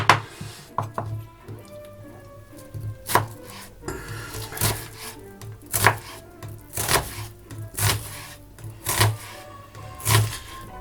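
A knife chops vegetables for goulash, including swede, on a cutting board, giving close, sharp, irregular thuds in loose rhythm with faint clatter between strokes and no talking.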